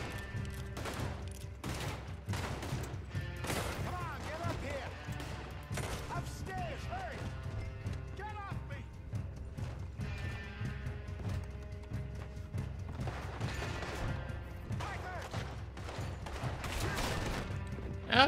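Sporadic gunshots crack out in a Red Dead Redemption 2 firefight, sharp bursts scattered across the stretch amid horse hooves, mechanical clicks and a speaking voice, fairly quiet overall.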